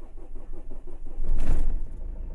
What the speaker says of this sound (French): Le moteur tourne rond, pas de bruit bizarre.